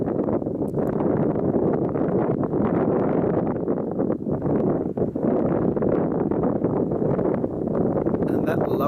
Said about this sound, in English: Just wait for this wind, just enjoy the view.